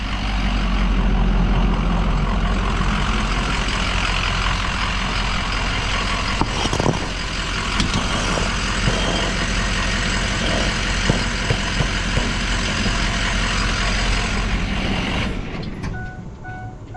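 A truck idles steadily and loud for most of the stretch, engine rumble constant with a few knocks and clanks, then the sound drops away near the end as it settles to a rest in neutral.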